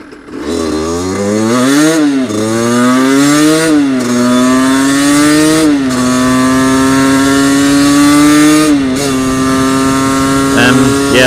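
A motorcycle on its way to have air put in its tires, engine droning loud and close with rising and falling revs that mark several gear shifts as it rides along.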